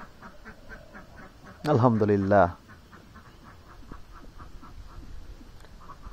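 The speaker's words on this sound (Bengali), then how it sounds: "আমাদের হাঁস চিল্লাচিল্লি করতেছে অনেক" Ducks quack in a short, loud, close burst of squawking outside a rural family home, with people talking before and after.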